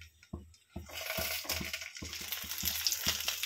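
Bhetki fish paturi parcels set into a hot pan crackle and sizzle, with soft sputtering bursts that build over a few seconds. Irregular low thuds are heard alongside as the parcels are placed.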